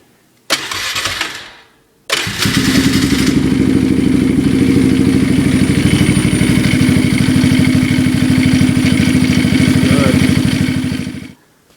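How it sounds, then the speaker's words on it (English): A 1999 Polaris Scrambler ATV engine fires up with a short burst, cuts out, then restarts and runs at a steady loud idle with the new drive belt spinning, clattering close by until it shuts off. "I wanted to see how it spins on there."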